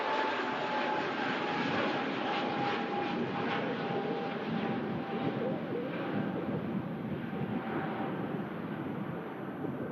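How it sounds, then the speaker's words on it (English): An EasyJet Airbus A320neo rolls for takeoff at Manchester Airport, its jet engines a steady broad roar heard from a distance, holding loud and even throughout with no voices. "EasyJet Neo then on the rollout to Milan."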